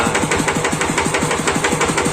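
A Kubota-style RD85 DI2T single-cylinder diesel tractor engine runs with a rattling, clattering knock suspected from the valves, a steady fast rhythmic chug, close and loud, with no talking.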